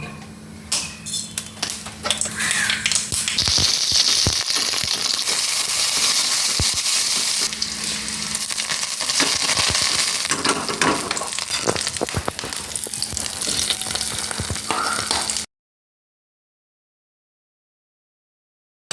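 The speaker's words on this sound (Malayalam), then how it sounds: "പിന്നെ നമുക്ക് കടുക് തളിക്കാം കുറച്ചെണ്ണ മതി" Mustard seeds splutter and pop in hot oil for a green tomato curry, a dense, steady crackle of sharp bursts that fills about fifteen seconds and then cuts to silence.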